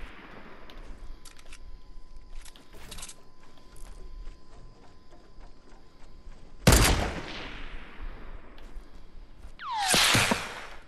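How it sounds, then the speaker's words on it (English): Enemy gunfire in Fortnite near the Loot Lake house, with scattered faint shots followed by two loud, sharp bursts, one midway and one near the end. "they're shooting back now"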